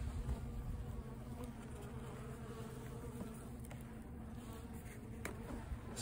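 A small honeybee swarm, caught at the end of summer, gives off a steady, faint buzzing hum that holds evenly throughout.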